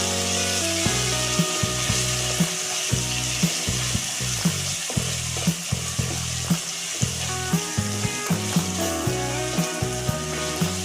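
Prawn curry with curry leaves, coriander powder and mint frying in a pan, a loud continuous sizzle cut by regular sharp knocks and scrapes of a spatula stirring, with no voices.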